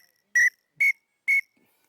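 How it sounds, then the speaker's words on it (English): A whistling duck call blown with a roller gives three short, evenly spaced high whistles, each a steady clear tone, close and loud against silence. "that's probably the easiest call with that whistle"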